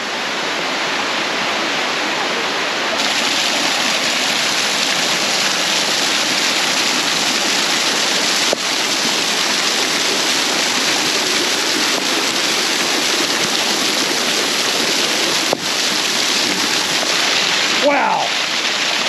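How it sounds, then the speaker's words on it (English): A waterfall on a hiking trail, heard up close as a loud, steady broadband rush that holds for the whole stretch and swells slightly after a few seconds, with brief faint knocks and a short chirp near the end. "On this hike, we go by and actually under another waterfall."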